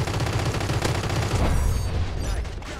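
Sustained automatic gunfire in the shooter Crossfire X rattles loud and close in a dense, continuous stream, thinning slightly toward the end.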